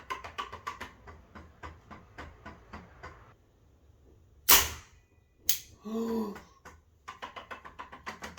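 A self-aiming robot fires a Malteser with a sharp, loud snapping shot, followed by a second burst of clatter amid a steady ticking rhythm of mechanical clicks before and after.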